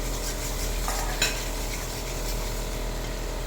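Cardamom, cloves, onion, grated ginger and garlic fry in a pan for a whole cauliflower dish, giving a constant close sizzle with a few light stirring clinks over it.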